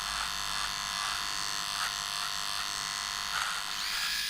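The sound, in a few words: SOOCAS cordless electric razor trimming beard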